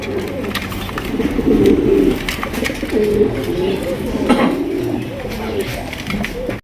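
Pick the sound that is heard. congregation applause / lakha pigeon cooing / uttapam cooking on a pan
lakha pigeon cooing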